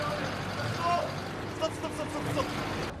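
A bus engine runs with a low, steady rumble and a faint hiss, heard fairly quietly beneath voices.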